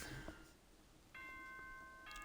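Announcement chime from the video game Danganronpa 2, a short two-tone electronic ding-dong that starts about halfway in, with steady sustained tones over a faint background.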